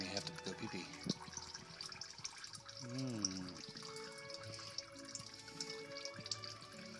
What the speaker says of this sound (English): Just crack it until oil starts running out, and then take your hand off of it and let it drip.